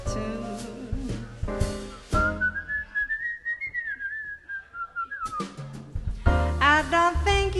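A person whistles a short, bright tune as a single sustained, gently wavering melodic line, bracketed by sung jazz vocals with accompaniment before and after, close and clear.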